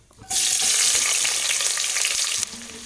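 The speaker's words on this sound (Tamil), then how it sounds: "இந்த சின்ன வெங்காயத்தை நல்லா வதக்கிடலாம்" Small shallots hit hot oil in a pan for mutton kuzhambu and burst into a loud, dense sizzle right up close that holds steady, then drops a little near the end.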